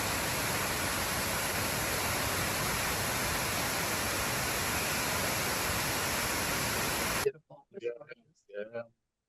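A waterfall in Croatia roars as a dense, steady wash of rushing water for several seconds, then cuts off abruptly, followed by brief bits of speech.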